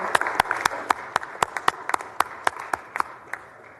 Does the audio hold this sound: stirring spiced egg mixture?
no